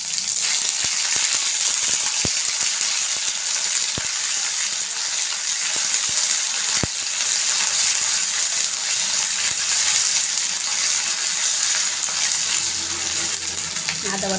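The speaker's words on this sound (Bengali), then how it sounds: "আদা বাটাটা কিছুক্ষণ ভেজে নেব" Ginger paste fries in hot oil with black cumin, giving a loud, continuous close sizzle with occasional sharp taps of a utensil against the pan.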